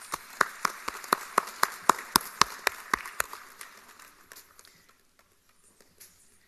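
Slow, regular claps from a small group at the Karnataka Educational Awards 2020 ceremony, about a dozen sharp beats that fade out into quiet.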